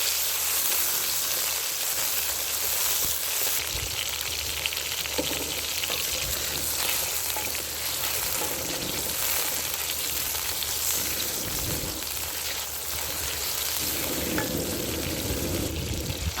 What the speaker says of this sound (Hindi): थोड़े इनको फ्राई करने हैं।